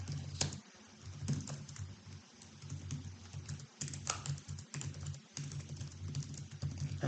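Quiet, close typing on a computer keyboard, a continuous patter of keystrokes with brief pauses, with no voices.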